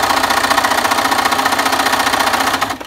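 A sewing machine stitches a 1/4 inch seam on a fabric mask, with back stitching at the seam. It runs as a steady, close, loud mechanical whir with rapid even stitching pulses, then stops abruptly at the very end.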